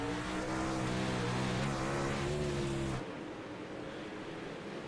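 A dirt track race car engine roars loud and sustained with a steady, slightly varying pitch at Weedsport's Monday Night Thunder, then drops off sharply into a quieter, distant rumble of other cars on the oval.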